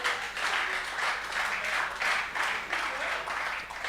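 An audience at a live comedy show in Pointe-Noire applauds, a continuous wash of clapping in pulsing waves that holds steady for several seconds.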